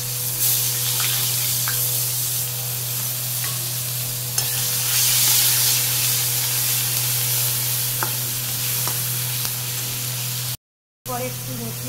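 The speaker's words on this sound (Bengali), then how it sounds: "পেঁয়াজ বাটাটা দিয়ে দিচ্ছি।" Onion paste frying in oil tempered with black cumin: a steady, close sizzle and crackle with a few light utensil taps, a constant low hum underneath, a brief dropout near the end, then the sizzle resumes.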